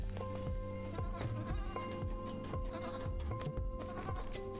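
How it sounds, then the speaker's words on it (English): Goats bleating in the puzzle video game Creaks, several overlapping bleats repeating over a busy, steady game soundtrack with chiming tones. "Go, goats, go, all of you."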